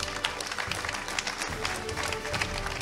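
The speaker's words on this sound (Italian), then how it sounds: "Un applauso." Steady applause from a festival closing and awards crowd, a dense patter of many hands clapping at an even level for a few seconds.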